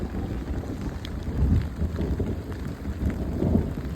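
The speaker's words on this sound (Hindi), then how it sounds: "लुक एट दिस, बारिश।" Steady overnight rain falling at a hilltop fort campsite in the morning, a dense continuous patter with faint rumbles of thunder underneath, no voices present.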